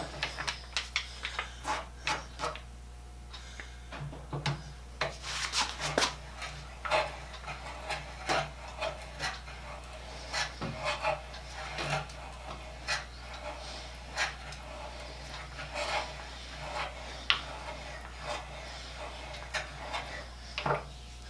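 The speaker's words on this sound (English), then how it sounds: "cutting end grain with an auger bit, auger bits do really well on cross grain, not so good on end grain" A hand auger bit bores into wood end grain, giving a steady series of creaking, crunching cuts and clicks in a slow rhythm over a constant low hum, close by, without talk.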